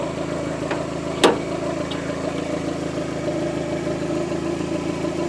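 A Briggs twin-cylinder engine salvaged from a scrapyard runs close by at a steady, rumbling idle during throttle adjustment, with one sharp knock partway through and no talking.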